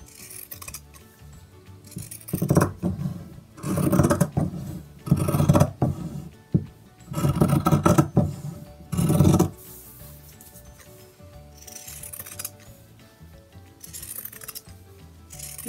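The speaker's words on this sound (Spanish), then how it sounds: "Con la tijera en zigzag voy a cortar" Pinking scissors snip excess fabric in a series of crisp, close crunching cuts that come in bursts separated by short pauses, with quieter handling in between.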